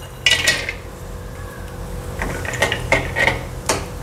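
Dry fruits roast in ghee in a metal pan for banana sheera in a home kitchen, with bright metallic clinks and scrapes of a spoon against the pan coming in several close bursts.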